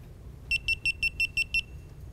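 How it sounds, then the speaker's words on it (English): An electronic timer beeps near a conference stage, seven short, evenly spaced high-pitched beeps in quick succession that stand out clearly against a quiet room. "There's something beeping up here."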